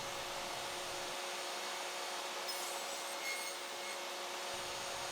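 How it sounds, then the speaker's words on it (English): A small high-speed Dremel rotary tool with a sanding bit whines steadily, with grinding friction as it rounds freshly cut wooden edges, continuous and close. "Using a Dremel sanding bit, I'll quickly round off the freshly cut edges."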